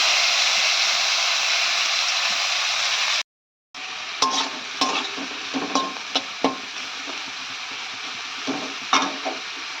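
Bitter gourd and potato pieces fry in a pan in a village kitchen, with a loud continuous sizzle, a brief break, then scraping and clinking as the spatula stirs through the crackling oil.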